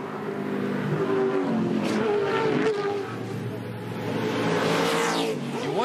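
Touring Car Masters race cars lapping Bathurst in 2013, engines roaring loudly and continuously with rising and falling revs as several cars pass close by.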